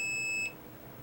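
A multimeter set to continuity mode emits a steady high electronic beep for about half a second, then cuts off, leaving faint background hiss.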